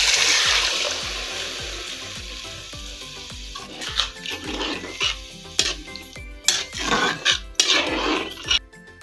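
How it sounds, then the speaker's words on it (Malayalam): Water poured into a hot pan for semiya upma hisses and sizzles loudly at first, then fades into bubbling, clinking pan noises and stirring knocks close by. "ഇതിന് ആവശ്യത്തിനുള്ള വെള്ളം ഒഴിച്ചു കൊടുക്കാം"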